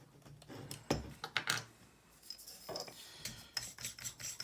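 A lightsaber hilt is taken apart by hand, giving close scraping, rubbing and clicking handling noises in irregular bursts with short pauses between them.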